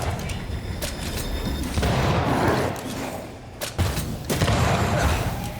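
Rifle gunfire in the game Banishers: Ghosts of New Eden, a dense volley of loud booming shots in bursts over rumbling combat noise, with a voice briefly audible.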